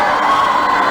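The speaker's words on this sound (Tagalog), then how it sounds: "Narinig natin ang hiyawan dito sa hardcourt." Live crowd at a hardcourt basketball game shouting and cheering in one loud, dense burst of voices with high-pitched yells, close and sustained for under a second.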